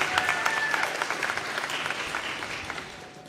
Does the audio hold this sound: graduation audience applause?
yes